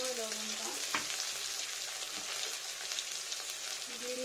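Turmeric, salt and spices fry in a pan with a soft, steady sizzle, while a few clinks and scrapes of a spoon stir through it; faint tones come and go in the background.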